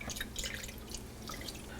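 Clarified butter (ghee) poured slowly from a pan, dripping and trickling through cheesecloth into a pint mason jar, a fine irregular patter of small drips, soft and close.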